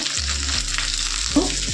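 Potato and pointed gourd fry with salt in a pan, giving a dense, even sizzle close by with a soft stir near the end and a faint underlying hum.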